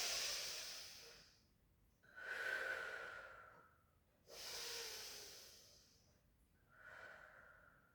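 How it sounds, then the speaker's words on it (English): Slow, deep breaths during a Pilates session, each one a long soft airy inhale or exhale, roughly four in a row, faint and close with quiet pauses between them. "Take a breath in."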